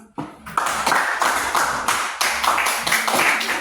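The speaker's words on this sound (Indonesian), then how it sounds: "Terima kasih, tepuk tangan." A group claps together in a brisk burst of applause lasting a few seconds, loud and close.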